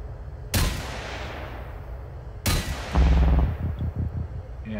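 Two loud, sharp gunshots from Generation Zero, each followed by a long echoing decay, then a burst of rapid heavy impacts or booms as the second shot fades.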